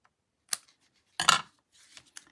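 Scissors make a few separate, crisp snips as paper is trimmed for a handmade St. Patrick's Day matchbook card, close and quiet, with silence between the cuts.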